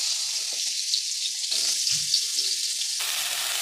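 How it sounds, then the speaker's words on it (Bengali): Small chopped brinjal pieces frying in hot oil left from frying potatoes, a steady close sizzle with some wet crackle running throughout, with no voices. "এবার এই তেলের মধ্যেই আমি এই ছোটো করে কেটে রাখা বেগুনগুলোকেও ভেজে নেব।"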